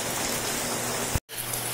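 Steady rain pours down in San Miguel, Bulacan, a dense close hiss of drops on surfaces, cut by a brief dropout near the end before resuming.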